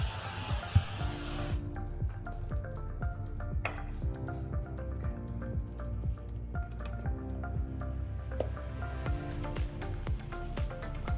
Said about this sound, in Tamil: இப்போ இதுக்கு மேலே ஆயில் ஸ்ப்ரே திரும்பவும் அடிச்சுட்டு க்ளோஸ் பண்ணிக்கலாம்